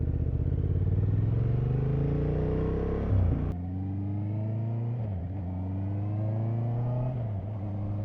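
A Honda motorcycle, a CB750 Hornet or CB650R, roars while riding, its engine revving up in rising pitch, dropping sharply on a gear change, then climbing and dipping again in loud, close drones.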